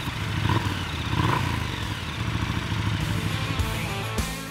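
A KTM 1290 Super Duke GT 2024 engine is heard close up, a steady loud motorcycle rumble with a brief clatter, continuous throughout and without talk.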